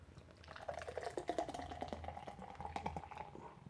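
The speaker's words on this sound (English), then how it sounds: "And pour vigorously." Beer pours vigorously from a can into a glass, gurgling and fizzing with bubbly splashes throughout, close and fairly quiet.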